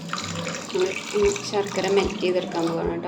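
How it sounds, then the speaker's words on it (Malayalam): Water pours steadily into a pot of jaggery for jackfruit payasam, a continuous splashing flow, while a person talks over it. "കുറച്ച് വെള്ളം ഒഴിച്ചിട്ട്"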